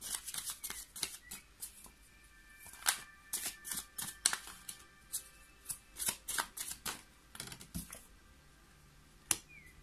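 A deck of tarot cards is shuffled close up, with rapid papery riffles and flicks that come in uneven bursts, while brief soft taps and snaps scatter between them.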